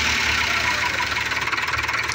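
A Mercedes-Benz 814 Ecopower truck engine runs loud and close, a steady mechanical drone with a slight rhythmic knock throughout and no voices.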